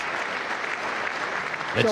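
Crowd applause in the chamber at a State of the Union address, a steady wash of clapping at moderate distance that continues throughout, with a voice briefly cutting in near the end.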